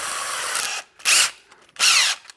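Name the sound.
drill boring hole with 3/4 inch speed bore bit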